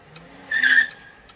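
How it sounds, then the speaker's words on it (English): Car tires give a short, sharp squeal in the middle of a brief moment, close and loud over a quiet engine hum. "For God's sake, this car is slow."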